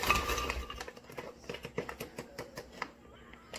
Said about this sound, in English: first I'm going to pour the frozen fruit into the blender